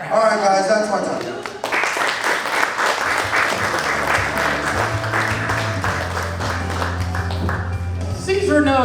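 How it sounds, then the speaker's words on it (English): Audience at a comedy roast breaking into loud, sustained applause and cheers for a comedian, steady dense clapping throughout, with a host's voice over it at the start and end. "Clap it up for him."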